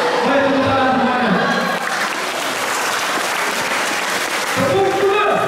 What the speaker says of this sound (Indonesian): Baik, tepuk tangan semuanya.